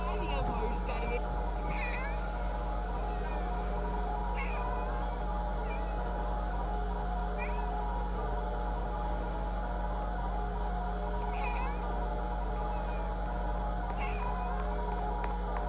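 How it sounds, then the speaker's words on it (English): A cat meows repeatedly in a video game, several short cries scattered over a steady hum of game music and effects, with talking throughout. "Why is this cat meowing for?"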